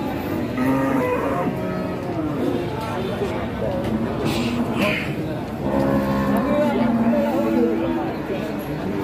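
Several cattle moo loudly and repeatedly at a livestock market, overlapping one another, with a busy background of crowd noise and distant voices.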